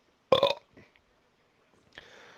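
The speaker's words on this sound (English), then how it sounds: "the burp is supposed to come before you say excuse me" A single loud, close burp lasting about a quarter second, followed by quiet and a faint trailing sound, with no talk.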